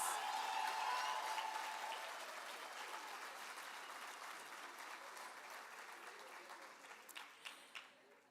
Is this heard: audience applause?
yes